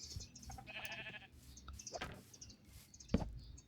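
Sheep bleat in the video game Minecraft Bedrock Edition: a few short, quiet bleats spaced apart, mixed with light clicking sounds and soft game ambience.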